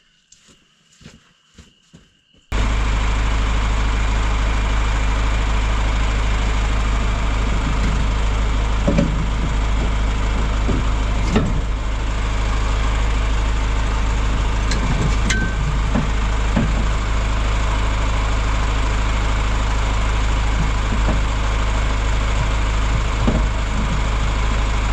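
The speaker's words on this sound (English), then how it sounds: "Tractor's going uphill" A John Deere tractor engine drones steadily while climbing uphill during plowing, a constant low rumble with faint rattles, heard after a few soft knocks at the start.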